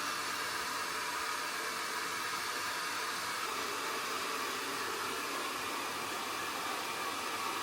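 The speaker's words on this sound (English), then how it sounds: "I can't watch it with my hairdryer on and my AirPods are dead." A hair dryer blows steadily while hair is being dried, a close, unbroken airy hiss and whir holding constant for several seconds with no other sounds.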